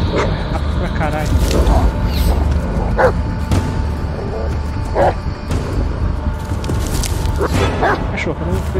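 A dog in the 2019 horror game Blair Witch lets out scattered barks and yips over dense, rumbling game ambience, with a voice talking at times.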